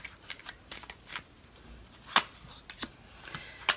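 Tarot cards are shuffled and drawn by hand, with soft riffling swishes and several sharp card snaps and flicks heard close up, without talk.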